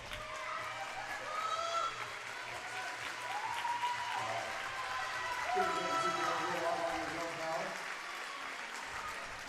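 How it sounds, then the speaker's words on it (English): A crowd applauds at a junior sports doubleheader, steady clapping that lasts the whole stretch, with voices and chatter mixed in among the spectators. "Bit of applause there"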